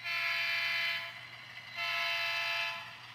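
HO scale model railroad trains run on a layout, giving a steady mechanical whir with a bright tonal hum that swells twice, fading briefly in the middle before returning, with no talking.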